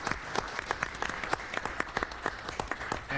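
Applause at a school board meeting, many hands clapping in a steady, moderately loud burst of crisp claps that fills the room throughout.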